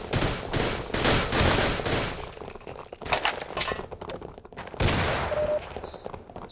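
Gunfire in an online shooter video game, rapid bursts and single shots crackling loudly in clusters, with brief pauses and a faint electronic tone between volleys.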